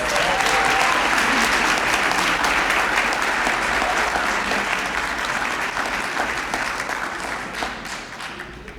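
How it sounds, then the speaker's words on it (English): Loud, sustained applause from an audience at a school district retirement celebration honoring retirees, a dense wall of clapping that stays strong for several seconds and only slowly eases toward the end. "Let's give our honored retirees another big round of applause."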